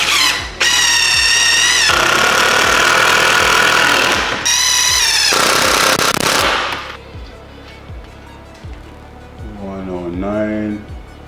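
A power screwdriver drives screws into a wall during a wall teardown and rebuild, with loud whining bursts of spinning and clicking at close range, one long run then a shorter one, before the room falls quieter.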